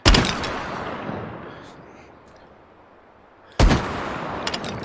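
Two loud shotgun blasts from trap loads in the VR shooter H3VR, one at the start and another near the end, each with a long decaying echo between them.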